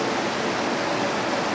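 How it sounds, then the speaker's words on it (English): A creek flowing beside the site of an old house, steady broadband rush of moving water, close and continuous with no other sounds. "Looks like the creek that went by that house"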